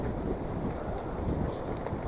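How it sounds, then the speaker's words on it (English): Strong gusting wind buffets the microphone along a flooded trail, a steady loud roar with no talking over it. "the wind is actually picking up pretty much now."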